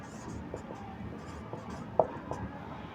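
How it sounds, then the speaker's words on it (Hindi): Pen or marker writing out a geometry solution, soft scratchy strokes and light taps against a quiet room background, with no talking. "अब मैं लिखता हूँ सॉल्यूशन।"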